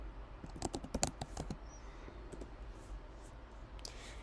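Quick bursts of key clicks on a computer keyboard as a search keyword is typed, a close, crisp cluster of taps that thins into a few scattered clicks and then quiet.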